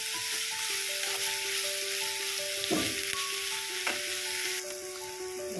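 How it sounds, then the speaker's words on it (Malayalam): Onions sauté in a pan for paneer masala, a continuous close sizzle broken by a few scraping stirs. "സവാള അവിടെ വഴന്നിട്ടുണ്ട്"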